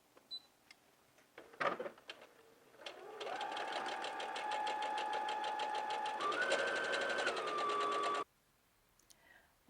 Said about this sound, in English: let's go ahead and sew in this seam